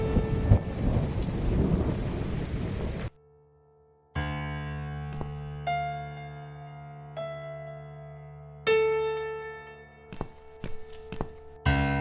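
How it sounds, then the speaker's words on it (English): A stormy gust of wind and rain from the horror game The Cat Lady, a dense roaring wash for about three seconds that cuts off abruptly, followed by sparse, resonant tonal music hits. "I think there's a big storm coming."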